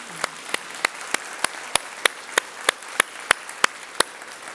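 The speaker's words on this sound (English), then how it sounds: "Yeah, you can applaud to them." A church congregation applauds with crisp, evenly spaced claps in a steady rhythm, growing slightly stronger over a faint room background.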